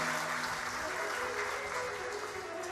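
An audience claps loudly and steadily in welcome at a live Shiv Mahapuran katha gathering, a dense, sustained wash of applause for the whole span.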